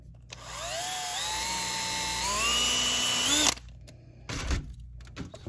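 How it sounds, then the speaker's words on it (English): Power drill running a 1/16 inch bit, a sustained high whine that climbs in pitch as it speeds up for about three seconds, then cuts off, followed by a few short handling noises. "I'm going to go up about that high and run a 16th inch bit, hopefully not through my finger."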